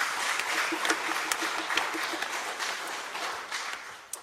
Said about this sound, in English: Let's give a nice warm round of applause for thanking these folks.